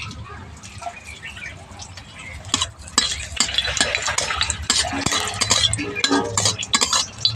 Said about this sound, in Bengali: শুকনো লঙ্কাটা প্রথমে ভেজে নিচ্ছি